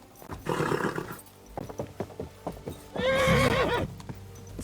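A horse neighs loudly twice, with clip-clopping hooves in between, the whinnies harsh and close.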